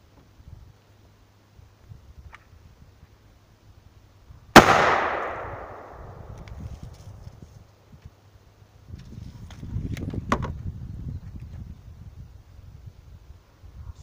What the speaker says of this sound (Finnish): Ja otetaan vielä kolmas paukku tänne.